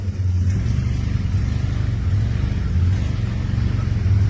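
A riding lawnmower stuck in mud, its small engine droning steadily and loudly with a low, rumbling revving throughout.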